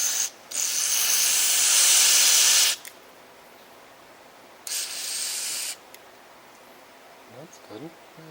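A spray can hisses close up in two bursts, one long and one shorter, as it sprays into the holes of an Echo SRM weed trimmer, followed by faint mechanical clicks.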